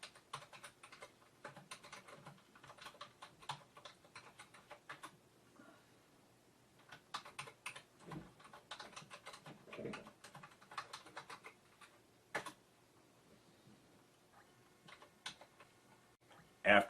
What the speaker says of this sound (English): Let's type in the code for the Compute button.